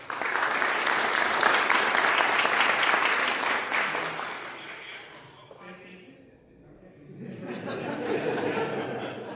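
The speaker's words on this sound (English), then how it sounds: "Please give him a big round of applause" Audience at a Punjabi book release event in California applauds a friend invited to the stage. Loud, dense clapping with some chuckles fills the first half, then fades away, and quieter chatter and murmuring take over.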